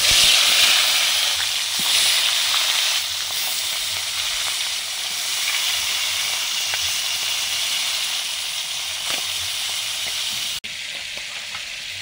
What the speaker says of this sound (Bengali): রুই মাছটা ভেজে নিচ্ছি।